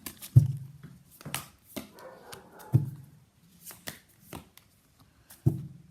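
Tarot cards are shuffled and pulled, with three sharp slaps or taps spaced a few seconds apart over soft papery riffles and brushing, close and clear with no talking.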